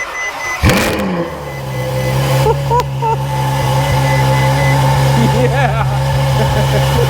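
A 2015 Ferrari F12 engine starts with a sharp crank and bark, then settles into a loud, steady idle with brief revs rising over it, and voices are heard faintly in the background.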